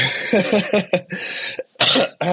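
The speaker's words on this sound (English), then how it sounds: "So I might clear my throat every now and again like that as well" A man clears his throat several times in rough, gravelly bursts, with short pauses between, close and fairly loud.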